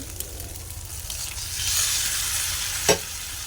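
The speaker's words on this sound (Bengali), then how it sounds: "এবার এর ভিতরে সেই টমেটোটা দিয়ে দিব" Continuous hissing sizzle of tomato frying in a pan with egg, with soft stirring scrapes and one sharp clink near the end.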